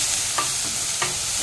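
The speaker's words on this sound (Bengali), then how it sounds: "এটাও একইভাবে ফ্রাই করে নেব" Vegetables, capsicum and beans, frying in a pan for tricolour rice, with a steady sizzle and two brief stirring scrapes.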